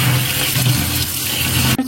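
Tap water runs steadily into a sink as vegetables are washed, a close, continuous splashing rush that cuts off abruptly at the end.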